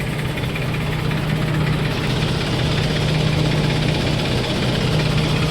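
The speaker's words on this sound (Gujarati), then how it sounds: "આ સ્લો લીવરમાં હાલે છે ટ્રેક્ટર" A tractor engine runs steadily in slow gear, powering a destoner grain-cleaning machine sorting mung beans, a loud constant low drone with mechanical vibration and rattle, no pauses or voices.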